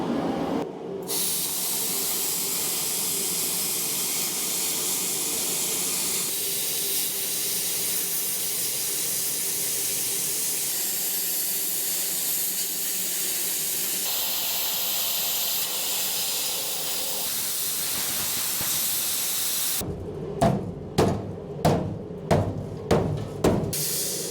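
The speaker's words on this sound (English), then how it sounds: "Just go ahead and get this brace cut out in a section that we can replace one big section at once." A rusted brace inside a Dentside Ford truck cab is cut out with a loud, steady hissing power-cutting tool for about twenty seconds, followed by a series of short rhythmic bursts as the cut finishes.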